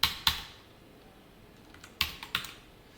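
Typing on a computer keyboard while writing HTML and CSS code, a few crisp key clicks in two short bursts separated by a quiet pause, close and clear with no talking.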